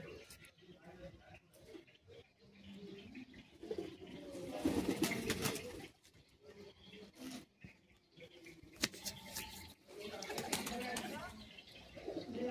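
Madrasi high-flying pigeons coo softly inside a loft, low repeated calls threading through steady nearby speech, with a few brief wing or shuffling sounds.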